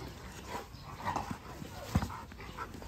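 A young Canary mastiff puppy lets out faint, brief whimpers and yips among quiet rustling nearby.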